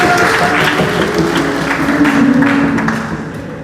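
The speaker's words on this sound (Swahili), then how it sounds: "Hebu tuwapigie mapadri wetu makofi." A congregation at a youth Mass in Arusha applauds its priests with loud, close, sustained clapping from many hands, joined by a faint steady tone, before the sound eases off near the end.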